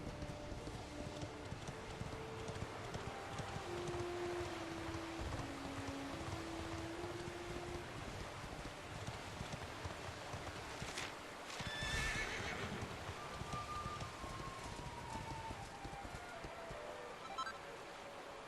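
Horse riding in Dragon Quest XI brings steady clip-clop hoofbeats over a continuous ambient game soundscape, with a brief whinny-like burst midway, even and moderate in level throughout.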